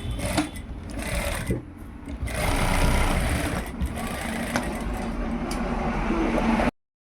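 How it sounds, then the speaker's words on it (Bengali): A sewing machine runs steadily and close by as the shoulder seams of a kurta shirt are stitched, its motor whirring continuously with slight changes in speed and a few brief pauses, then stopping abruptly at the end. "সবসময়ের জন্য আমরা যখনই সেলাই করবো টাক দিব"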